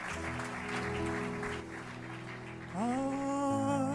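A church congregation claps steadily for a few seconds, then the applause gives way to sustained musical tones swelling in over it.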